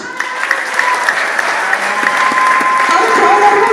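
Audience applause at a religious gathering, a steady burst of clapping heard fairly close, with a voice speaking over it.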